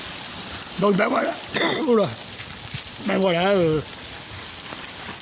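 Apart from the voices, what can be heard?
rain falling in Alicante street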